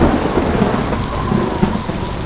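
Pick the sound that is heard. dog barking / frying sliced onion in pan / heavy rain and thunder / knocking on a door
heavy rain and thunder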